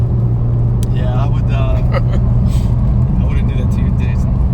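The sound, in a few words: Porsche 991 Turbo engine warming up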